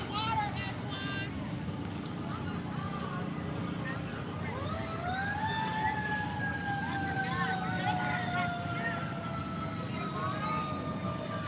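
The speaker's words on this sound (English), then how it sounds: "I hear the fire trucks" Fire truck sirens at a Fourth of July parade in Lawrence, Indiana, rising into long wailing tones in the distance over crowd chatter and nearby talk.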